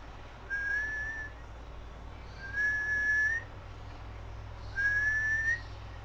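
Three short whistled notes, performed as a facial exercise for Bell's palsy, each rising slightly in pitch, separated by pauses, sound close and clear over a low background hum.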